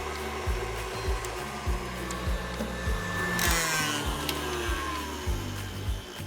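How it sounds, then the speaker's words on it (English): A stand or hand mixer whips heavy cream with a whisk attachment in a home kitchen, giving a steady motor whine under a regular rhythmic thumping beat that continues throughout, with a brief brighter swell midway. "You can use a hand mixer or your stand mixer with the whisk attachment."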